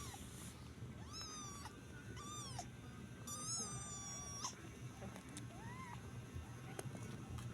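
Cats fighting, with repeated drawn-out yowls and rising meows trading back and forth over a low background hum, some cries close and others briefer.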